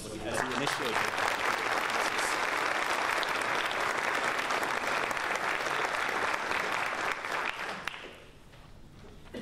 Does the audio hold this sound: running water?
no